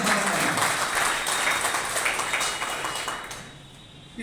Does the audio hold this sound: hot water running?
no